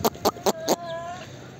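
Aseel rooster and hens at a backyard coop give four loud, evenly spaced clucks in quick succession, followed by a softer, drawn-out call that trails off.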